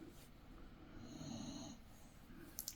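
A sleeping dog snores softly nearby, one drawn-out rumbling breath followed by a quieter exhale.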